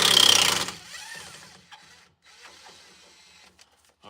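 A loud power tool bursts briefly while taking a large nut off a truck, a harsh blast in the first half second, then it winds down into faint clanks and quiet mechanical rattles.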